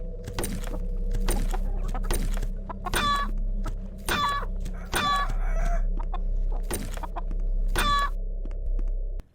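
Chickens in the first-person shooter HROT cluck and crow repeatedly in sharp, loud bursts at a steady rhythm, close by with no talk over a constant low background hum.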